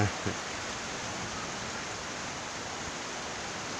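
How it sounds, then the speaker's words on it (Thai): Dense, steady rain pours down in a broad continuous hiss over rural farmland in Phimai, Thailand, heavy and unbroken throughout, with a brief thump at the very start. "วันนี้ตกแรงเลยตกหนักเลย"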